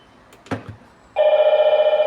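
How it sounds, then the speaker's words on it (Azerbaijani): Call ringing on a Hikvision KH8520-WTE1 IP intercom monitor with a KV6103-PE1 door station, a loud, close electronic ring that starts abruptly and pulses rapidly in an even rhythm after a couple of soft knocks. "Zəng gəldi, üstdən bir dənə də zəng gəlir, fikir verin."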